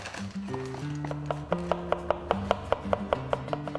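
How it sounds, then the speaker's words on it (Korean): A kitchen knife chops food on a board in a brisk, even rhythm of sharp taps, close and clear over soft background music. "경쾌한 칼질."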